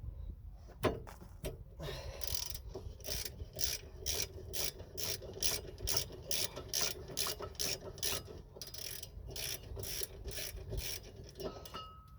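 A hand ratchet tightens the brake caliper bolts on a Ford Fiesta Mk6, with a long run of evenly spaced, crisp clicking strokes, close and clear in a quiet workshop, no speech.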